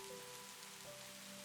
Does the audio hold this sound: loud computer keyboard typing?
no